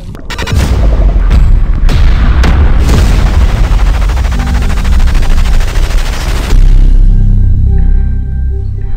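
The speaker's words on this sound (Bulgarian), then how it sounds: "Изстрел, изстрел." Rapid gunfire bursts out loud and close during a wild boar hunt on an island, a dense volley of shots with booming reports that rolls on for several seconds, then tapers off.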